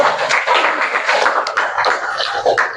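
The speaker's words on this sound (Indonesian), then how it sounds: "Tepuk tangan untuk temannya" Classroom of students clapping for a classmate, a busy, fairly loud patter of hands mixed with chatter-like noise and scattered taps, continuing throughout.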